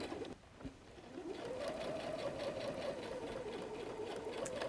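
Sewing machine stitching a seam on a messenger bag: a quiet, fast, even whir of the needle running steadily after a brief start, faint and close with no talk.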